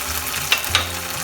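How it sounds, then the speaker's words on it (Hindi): Ginger, garlic and green chili paste frying with onions in a pan for Bengali tilapia jhal, a steady close sizzle broken by two quick metallic clinks of a spatula. "अभी ginger garlic green chilli paste हम ऐड करेंगे। 2-3 मिनट फ्राई करेंगे"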